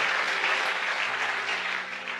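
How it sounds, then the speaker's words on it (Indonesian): A church congregation applauds steadily in praise, a dense wash of clapping filling the room without a break. "Tepuk tangan bagi Tuhan."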